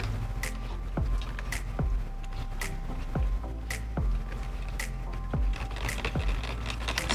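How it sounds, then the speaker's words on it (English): Stirring an omelet-shaped Popin' Cookin' sushi candy-kit mix in a small bowl, soft repeated scraping and tapping strokes at a steady pace, close and quiet. "let's go ahead and stir this up"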